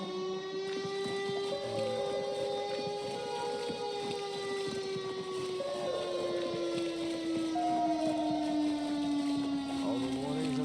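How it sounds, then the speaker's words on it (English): Tornado siren test in the video game Mouthwashing, a long steady wailing tone that slowly falls in pitch and holds for the whole clip over faint background noise. "Is it seriously the tornado siren test today?"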